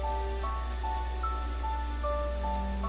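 Steady rain in The Witch's House game, a constant soft patter with drips over a low continuous hum, with a faint melodic tune playing alongside, even and unbroken throughout.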